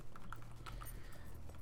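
Horse hooves clip-clopping at a riding pace in Lord of the Rings Online, a few light hoof taps over a steady low game hum, no voices.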